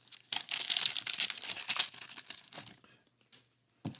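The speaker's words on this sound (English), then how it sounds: "The wrappers are really bad to get out of this." A crinkly wax wrapper on a 1990 Donruss baseball card pack is torn and crumpled open up close, with dense crackling for about two seconds that thins to a few scattered rustles.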